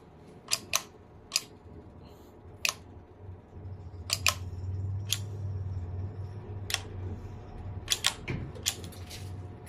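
Scissors snip in sharp, isolated clicks at an uneven pace, close and fairly loud over a low steady hum, with several quick double snips between pauses.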